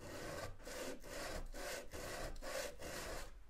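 A freshly turned Japanese maple wooden bowl base is pushed back and forth across flat abrasive, a close, loud rhythmic rasping scrub of about seven strokes with brief gaps between them, no voices.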